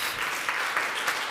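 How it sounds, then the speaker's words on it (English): An audience applauds to welcome a speaker onto a stage, with continuous, fairly soft clapping throughout the short stretch. "please welcome, with a big round of applause, Diipa Khosla"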